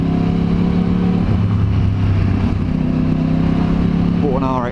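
A motorcycle fitted with a TBR exhaust blasts past quickly, its loud engine note rising and falling in a strong continuous roar with a sharp upward rev near the end; a person is heard talking over it.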